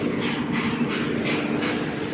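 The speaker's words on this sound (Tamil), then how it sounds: "கரெக்டாக மணி ஏழு மணிக்கு மடூர் வந்துருச்சு ட்ரெயின்" A passenger train pulls into Maddur station, giving a steady, loud rumble with a rhythmic pulsing clatter of wheels on rail joints and a low hum running underneath.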